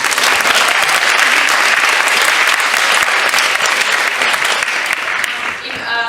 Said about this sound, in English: They also gave us a lot of money, so we should give them a clap.